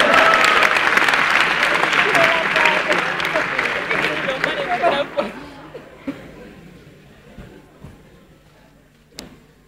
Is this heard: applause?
yes